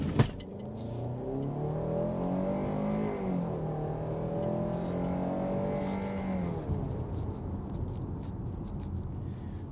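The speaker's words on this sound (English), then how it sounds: "Let's just do a quick launch to see if this vehicle's got some power or not." A 2023 Kia Sportage X-Line launches hard from a standstill, its engine note rising steadily through the revs with a shift partway through, heard from inside the cabin with steady road and wind noise.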